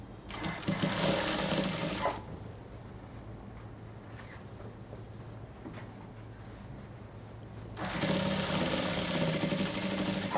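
A sewing machine stitches the side seam of a wrap crop top in two loud, steady whirring runs at the start and end, with a quieter stretch of low hum between them.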